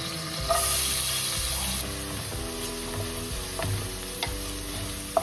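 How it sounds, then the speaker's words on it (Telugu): Chopped onions sizzling in hot oil with cumin for a restaurant-style mushroom masala, a steady loud frying hiss, a brief spitting burst as they go in, and soft scraping stirs throughout. "కొంచెం నూనెలో వాడిన తర్వాత కొంచెం జీలకర్ర, కొంచెం కాగిన తర్వాత చిన్న కట్ చేసుకున్న ఉల్లిగడ్డలు వేసుకుందాం"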